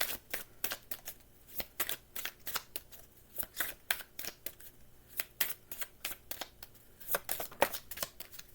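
Oracle cards being shuffled in a steady run of crisp, close riffling bursts that repeat rapidly and evenly throughout, with no voice over them.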